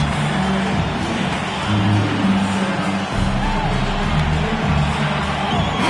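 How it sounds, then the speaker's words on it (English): Arena crowd noise from the basketball video game NBA 2K26, a steady broad roar of fans cheering and standing during a break in play, continuous throughout with some murmured voices mixed in. "the crowd standing to cheer his excellence"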